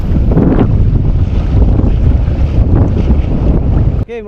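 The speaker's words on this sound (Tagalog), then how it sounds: "Grabing alon guys." Heavy wind roars into the microphone aboard a small fishing boat out at sea among big waves, a loud, continuous rumbling buffet with surging water, cut off abruptly near the end.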